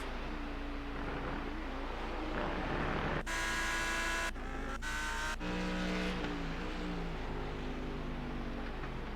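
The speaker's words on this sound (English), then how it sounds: "God, I love the sound of this Mercedes." Mercedes GT race car engine in the iRacing sim at Road Atlanta, a steady engine drone with a sharp, high-revving burst mid-clip, then a brief gap and a second shorter roar before settling back to a low rumble.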